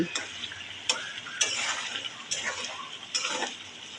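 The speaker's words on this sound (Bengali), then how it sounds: "টমেটোটাকে এবার মশলার সাথে একটু ভালোভাবে কষিয়ে নেব" Chopped tomato cooks down with spice paste in a pan for a pangas fish bhuna, with soft sizzling under several sharp clinks and scrapes of a spoon stirring against the pot, close by and without talk.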